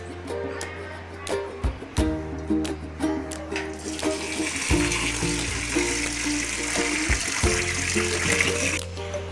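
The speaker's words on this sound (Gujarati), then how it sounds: "હવે હું એને પાણીમાં પલાળી નાખીશ." Flattened rice (poha) being soaked as water runs from a tap, starting with clattering and trickling handling sounds before a steady, close rush of flowing water fills the second half.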